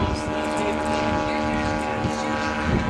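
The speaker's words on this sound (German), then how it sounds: "Nein, das war ein tiefer Überflug." A Sopwith Pup biplane makes a low pass at an air show, its propeller engine droning loud and steady for a few seconds, with people talking over the noise.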